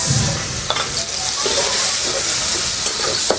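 Spices tipped into a pan of onions already frying for a village-style bottle gourd curry with rohu fish head, giving a steady close sizzle with a few brief stirring clatters and no talk.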